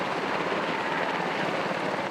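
A firefighting helicopter flies over a hillside cemetery fire, its engine and rotor making a loud, steady, continuous roar throughout.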